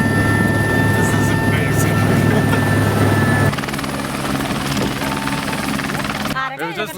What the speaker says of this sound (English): We just landed here, half an hour from Lukla, in a helicopter which was supposed to take us past Lukla.